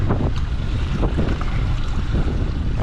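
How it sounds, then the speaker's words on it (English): A 70 horsepower outboard motor on a project boat runs at a steady idle outdoors, its low rumble constant under heavy wind buffeting on the microphone, with no talking. "The engine's running really good."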